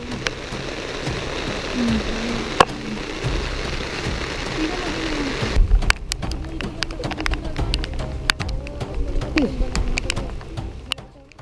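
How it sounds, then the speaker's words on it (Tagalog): Steady heavy rain pours down in Atok, Benguet with a dense hiss, broken by occasional stronger wind gusts and sharp drips; faint bird calls drift through in the background. "Nagpatuloy ang pagbuhos ng ulan at paminsan-minsan may kasama rin tong malakas na hangin."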